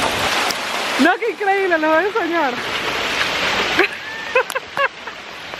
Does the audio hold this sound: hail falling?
yes